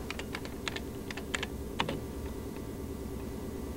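Clacking on a computer keyboard as a database search is entered, short bursts of light key taps with small gaps, heard close and fairly quiet over a steady background hum.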